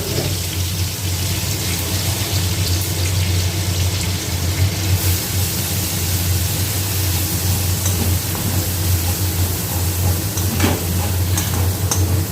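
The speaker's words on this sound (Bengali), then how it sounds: "ওটা দিয়ে ভালো করে ভেজে নেব" Onion and ginger-garlic paste frying in oil for Mughlai paratha, a steady sizzle with stirring running throughout, close and fairly loud, under a constant low hum.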